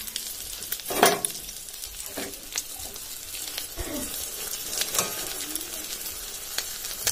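An egg omelette frying in a pan, a low steady sizzle broken by several clinks and scrapes of a utensil against the pan.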